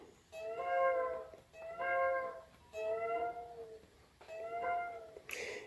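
Four drawn-out synthetic meows from a toy guitar in a row, each a rising-and-falling electronic cat cry, spaced evenly and close up, ending with a short burst of noise.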